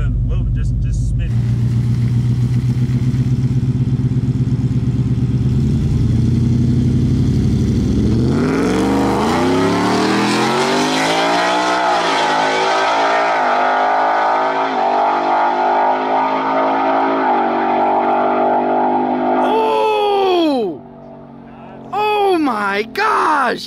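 Loud drag racing run of a Whipple supercharged Ford F-150 or a rat rod Toyota Supra: a low idle, then a roaring launch with engine pitch climbing steadily through the gears, ending with sharp falling whines and bursts as it shuts down.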